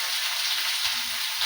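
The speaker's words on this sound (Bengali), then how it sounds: "কাঁচা লঙ্কা ফোড়ন দিয়ে করছি, আলাদা করে আমি মশলা করবো না।" Green chilies drop into hot oil as a tempering, giving a loud, dense, hissing sizzle that stays close and steady for the whole short moment.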